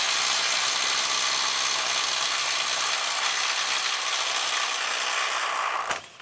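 Milwaukee M12 FUEL subcompact impact wrench driving at 150 foot-pounds, a loud continuous rapid hammering rattle lasting about six seconds before cutting off abruptly.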